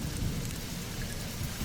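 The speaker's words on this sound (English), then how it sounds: "with only the sound of rain outside the window and the rustling of trees being blown by the wind" Steady rain falls outside a window in a stormy video game scene, with wind rustling through trees; a constant, dense wash of noise with no talk.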